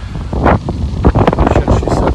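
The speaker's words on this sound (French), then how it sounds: "écoutez le vent pour les conditions que ces jeunes ont" Gusty wind blowing across an outdoor golf course during a youth team final, buffeting the microphone in broad surges and rumbles throughout, with no voices.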